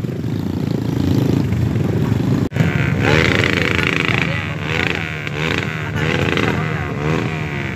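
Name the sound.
automatic scooter motorbike engine passing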